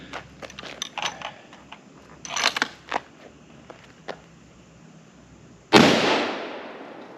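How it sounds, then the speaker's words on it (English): A single loud, close rifle shot from a Savage Model 10 Scout in .308 firing ballistic silver tip ammunition, with a sharp crack and decaying tail, preceded by scattered clicks and handling noises. "I'm just going to fire this one over the chronograph"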